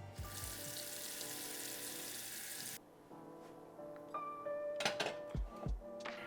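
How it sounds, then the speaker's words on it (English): Tap water pours into a kitchen pot in a steady, bright hissing stream that cuts off abruptly partway through, followed by quieter clinks and handling sounds. "So I filled up a pot of water"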